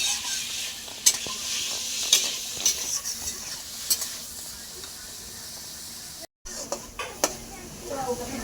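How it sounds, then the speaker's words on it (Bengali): Potato pieces seasoned with turmeric and salt frying in oil, a steady soft sizzle with repeated clinks and scrapes of a spatula stirring in the pan, close and moderately loud, with a brief dropout near the end. "আমি আলুটাকে ভেজে নেব।"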